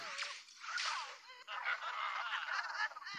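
Chickens squawk and cluck loudly in LEGO Legacy: Heroes, a continuous run of harsh, honking calls that fills the whole stretch before cutting off.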